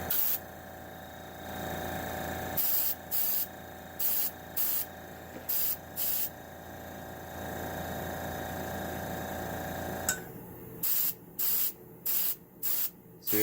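An airbrush fed by a compressor regulated at 20 psi gives a steady airy hiss under a low compressor hum, then fires in repeated short bursts, each about half a second, with brief gaps between them.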